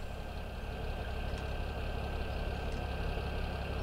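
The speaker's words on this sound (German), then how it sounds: "wir haben den Motor nicht abgestellt" A tractor engine left idling in the Farming Simulator 17 video game gives a steady, even, low drone that runs unchanged throughout, with no talk.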